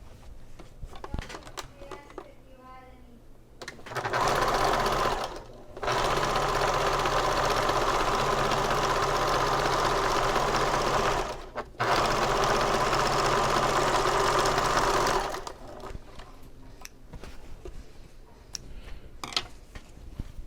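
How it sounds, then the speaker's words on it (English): A sewing machine stitches fabric pieces of a convertible bag together at a 3/8 inch seam allowance, running in three long, steady mechanical bursts with short pauses, framed by quieter handling sounds. "And I'm going to sew these pieces together."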